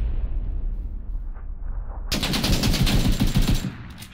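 Gunfire in the video game PUBG on the Erangel map: a low rumble gives way to a sudden run of rapid, sharp automatic shots that fades out near the end, with no one talking.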